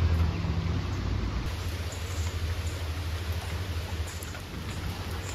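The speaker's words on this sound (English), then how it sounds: "we're getting kind of rained on right now" Rain falling outdoors on a farm, a dense steady hiss of drops with a low rumbling undertone, continuous and fairly loud throughout.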